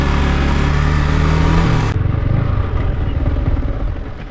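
A motorcycle engine idles loudly and close, then stalls abruptly while in neutral, its running note dropping away into a fading low rumble.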